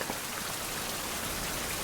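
Steady rain falls in a survival video game as an even hiss with no breaks, filling the short stretch with no talk over it.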